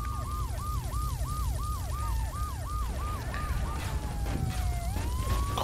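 A police car siren in the video game GTA III wails in a fast repeating yelp, then shifts to a slower rising wail, loud over constant engine and traffic rumble.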